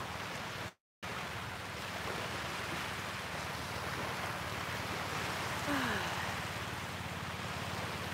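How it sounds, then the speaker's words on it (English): Ocean waves wash at the beach in a steady, broad roar of surf mixed with wind noise on the microphone, continuous and fairly faint. "Every day's different at the beach, right?"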